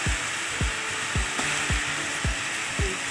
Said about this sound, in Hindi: ये देखा यह अब फ्राई हो थे पूरा तेल में